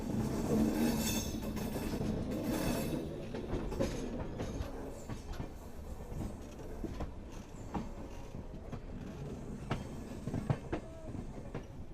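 The Rameswaram to Tambaram express, a newly inaugurated service, rolls along with a steady rumble and rhythmic clatter of wheels on track, heard from on board and continuous throughout, with occasional sharper clicks.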